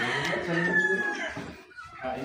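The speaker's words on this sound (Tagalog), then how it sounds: "Maganda tilaok na to. Maganda tilaok." A rooster crows loudly nearby in Laurel, Batangas, a single drawn-out call mixed with people talking close by.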